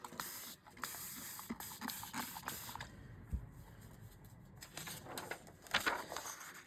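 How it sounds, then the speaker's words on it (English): A spray bottle misting seeds hisses in a series of short, quiet squirts, some quick bursts close together, with faint handling creaks between them. "So I'm going to spray that again."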